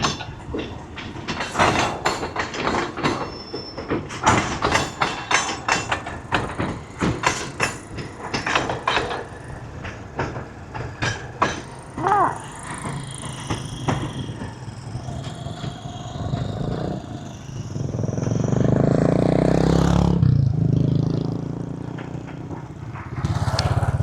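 A train rumbles past on the railway near a paper mill, its rhythmic clatter building and then fading, followed by a long, low roar as the last cars go by.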